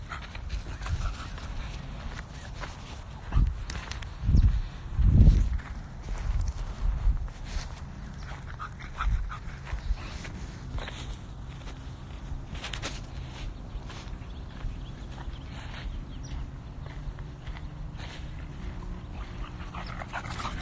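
A big dog pads around nearby with soft panting, occasional whimpers and scattered footsteps over about twenty seconds, louder bursts early on, then quieter movement.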